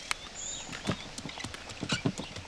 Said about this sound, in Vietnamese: có xe ngựa tới kìa